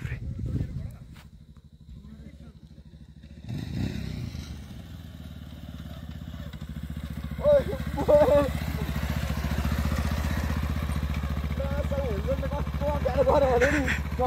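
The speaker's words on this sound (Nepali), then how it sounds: "भाइले चाहिँ त्यहाँ बाइक घुमाउँदैछ" A motorbike being ridden around in Phidim, its engine a steady low drone that runs through most of the stretch, with people talking over it in places.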